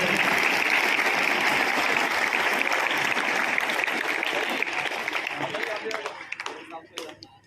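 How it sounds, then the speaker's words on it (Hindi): Loud, dense applause from a school gathering welcoming police officials and guests, sustained many-handed clapping that fills the space before thinning out and fading near the end, with a few scattered claps and faint voices. "एक बार जोरदार तालियां बजाइए।"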